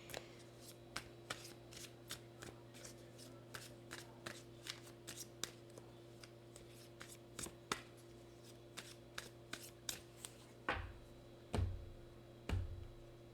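Arrows of Love oracle cards shuffled by hand in a quiet room, a long run of crisp riffling snaps and flicks at a steady rhythm, ending with a few heavier thumps as the deck is squared up.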